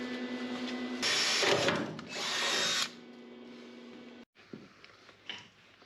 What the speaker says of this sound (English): I drilled the first hole in there for this bracket